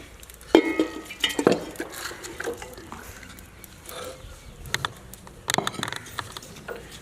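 A metal cooking pot is set on a stove for beef namkeen shorba, giving a few sharp clanks and clinks with softer handling rattles between them.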